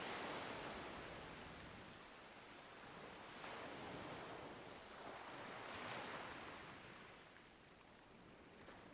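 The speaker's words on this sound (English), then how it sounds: "Listen to the soothing sounds of the sea as the waves gently churn." Sea waves churn gently in a soft, continuous wash of surf, with slow swells rising and falling and no voices present.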